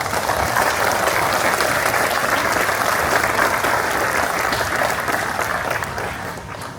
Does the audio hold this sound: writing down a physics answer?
no